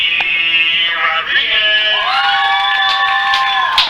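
A high school baseball crowd cheers and shouts in a continuous wash of voices, loud and fairly close, with high whoops and yells rising over the noise.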